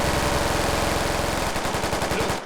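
Automatic gunfire in a squad combat video game: a loud, fast machine-gun burst of evenly spaced shots, close and dense, turning into more distinct, slightly slower rounds before cutting off.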